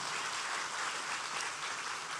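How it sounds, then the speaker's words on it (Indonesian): Congregation applauding during a church sermon, a steady dense wash of many hands clapping at moderate volume, continuous and without voices over it. "Tepuk tangannya bisa lebih hebat dari ini dong."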